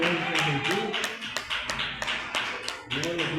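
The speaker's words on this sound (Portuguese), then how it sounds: "As palmas na igreja de Jesus." A church congregation claps in a steady, quick rhythm during a service, sharp regular claps under voices singing or speaking.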